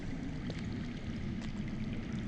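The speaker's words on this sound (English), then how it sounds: "That's water. I hear water. From underground." Underground water in the Game of Thrones Telltale video game gives a faint, muffled, steady rushing flow heard with no one talking.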